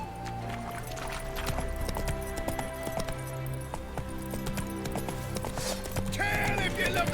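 Roach, a horse in The Witcher 3, gallops with rhythmic clip-clopping hooves under game sounds and clanks, ending in a brief louder burst, moderately close.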